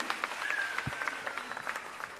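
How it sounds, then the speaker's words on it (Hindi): Faint, steady clapping from an audience honouring girls who performed at a Punjabi village-themed stage show, a soft patter of many hands continuing through the whole stretch. "उन्हां तालियां दे दिओ बच्चियां नूं"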